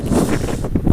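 A strong gust of wind buffets the microphone at a hilltop cabana campsite in Wewathenna, Sri Lanka, giving a loud, brief, rumbling burst of blustery noise.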